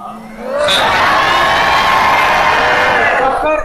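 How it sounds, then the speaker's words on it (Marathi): Children in the audience at a stage event in Kolhapur roar, cheer and clap loudly, with whoops and shouts rising into a sustained, dense crowd swell that fades near the end. "मुलं किती जोरात टाळ्या वाजवत होते."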